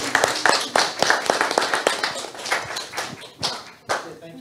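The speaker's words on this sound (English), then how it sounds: "An applause for this woman that fixed everything." Small audience at an EduWiki 2023 conference session claps, giving distinct individual claps in a loose, uneven rhythm that thins out over a few seconds.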